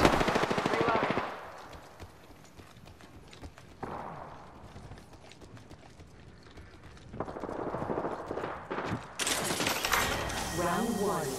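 Rapid automatic gunfire from an Apex Legends match, loud bursts at the start and again near the end, with quieter firing and game effects in between and in-game voice callouts over it.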